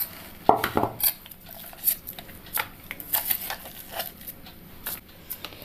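Coarsely crushed lentils for parippu vada scooped into a vessel, a string of light clinks, scrapes and knocks of metal utensils against a pot, close and irregular, with one louder rattle near the start.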